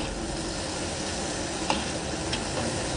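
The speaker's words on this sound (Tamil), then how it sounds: "நல்லா வதக்கி வாசனை வந்துருச்சு" Onions sautéing in a pan give a steady, dense sizzle that fills the whole stretch, with a couple of faint scrapes of stirring near the end. No one speaks.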